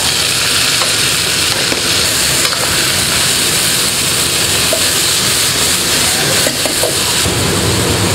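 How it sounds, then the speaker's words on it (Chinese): Crayfish stir-fried in a wok over low heat with half a pack of spicy fish seasoning, giving a loud, steady, dense sizzle with occasional scraping clatter throughout. "小火爆出香味啊，我们放入这个处理好的小龙虾"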